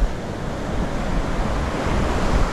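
Loud, continuous wind buffeting the microphone over a steady roar of surf at Playa Jandia, Fuerteventura, with no voices and no break in the rushing noise.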